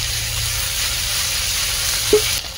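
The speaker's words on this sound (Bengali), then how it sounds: "আদা বাটা দিয়ে আবার একটু ভালো করে কষিয়ে নিতে হবে।" Ginger paste fries with chicken in a pan, giving a steady close sizzle with a faint low hum beneath and one brief clink near the end.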